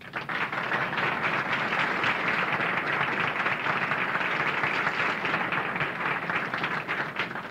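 A luncheon audience at a Law Day event claps in a steady, dense round of applause that holds strongly from start to finish with no voices over it.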